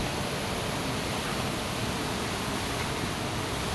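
A waterfall that never dries up, set on a hillside path where cows graze, gives off a steady, unbroken rushing roar of falling water with no voices.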